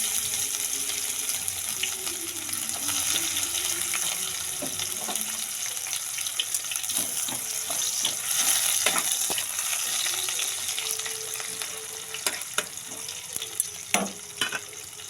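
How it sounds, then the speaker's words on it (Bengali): Onion added to hot oil with cumin seeds for a kundru curry, a loud continuous frying sizzle with stirring scrapes and clatter, busiest toward the end. "তো এতে আমি এবার পেঁয়াজ দিয়ে দেবো"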